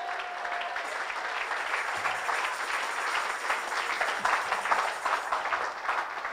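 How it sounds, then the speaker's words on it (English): Congregation clapping hands during a church sermon, a continuous, moderately loud round of applause from a crowd that carries on steadily for several seconds. "If you believe it, clap your hands unto God."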